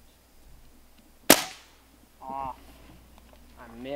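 A Crosman M4-177 pellet gun, pumped ten times, fires one sharp crack at a Coca-Cola can downrange, followed by short honking or clucking calls in the background.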